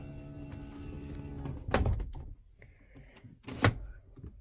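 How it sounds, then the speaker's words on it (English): A 2017 IC CE school bus door opens with two sharp mechanical clunks about two seconds apart over a low engine or electrical hum, close by, with no talk. "I'm just gonna open the door."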